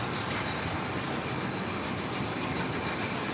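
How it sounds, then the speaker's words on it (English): Broadband rumble of a subway train running beneath a downtown Manhattan street near a station entrance, a steady, fairly loud roar that holds level throughout with no voices. "Under my feet, it's a subway station,"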